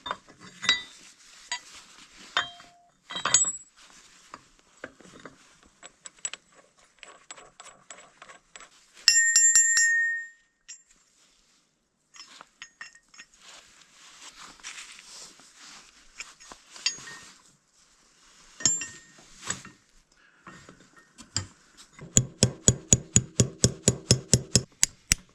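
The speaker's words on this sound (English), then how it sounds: "I guess you just gotta hammer it in there" Metal-on-metal hammer strikes driving a locking pin into a hydraulic top link on a Kirovets tractor, starting as scattered clinks and ending in a fast, loud run of about a dozen evenly spaced blows, with no talk.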